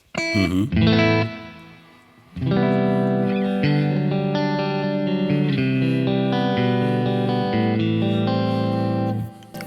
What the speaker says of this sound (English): you can turn a delay into some kind of reverb with a maximum setting of snare